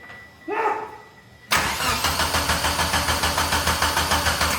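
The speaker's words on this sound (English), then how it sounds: "He's ready to fire the car up for the first time in 2 years." A Mitsubishi Eclipse, run without intercooler piping or radiator, cranks and catches after sitting for two years, then runs loud and close with a steady pulsing, slightly rough beat; a brief mechanical whir comes before the start.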